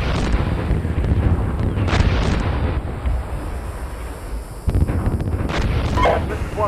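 Incoming fire and explosions in the Steel Beasts Pro tank simulation game: continuous broadband rumble, like wind or distant battle, with a few heavier booming blasts standing out, loud and close.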